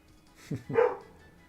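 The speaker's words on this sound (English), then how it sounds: "If you listen to a dog angrily barking, don't pay attention to him." A dog barks angrily at the neighbours in two or three quick, mid-loud barks, the last one longer and rougher, with no talking over it.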